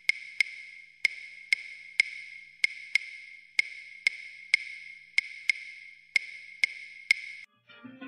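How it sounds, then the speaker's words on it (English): Sharp wooden clicks repeat in an uneven, syncopated five-stroke salsa clave pattern, cycling several times cleanly with no other sounds. "This is the clave rhythm that you probably heard so much about,"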